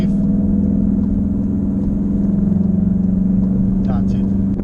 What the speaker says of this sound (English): when the Porsche goes through, that's it